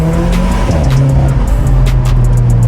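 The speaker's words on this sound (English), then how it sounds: "God, imagine listening to the sound of this car all day." A loud Alfa Romeo 4C sports car engine roars close by, its pitch rising and dropping with gear changes, with rumbling exhaust throughout.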